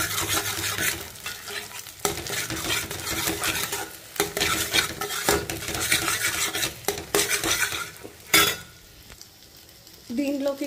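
Two beaten eggs fry and sizzle in hot oil in a pan while a utensil scrapes and stirs them in bursts, with clattering metal on the pan and brief pauses between strokes.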